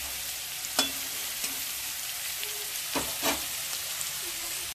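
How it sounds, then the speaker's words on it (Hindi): Peas and peanuts dry-roasting in a pan give a steady, even sizzle and crackle close by, with a few sharper scrapes of stirring standing out above the constant hiss; nobody speaks. "बहुत अच्छी तरह से मटर और मूँगफली भून गए हैं"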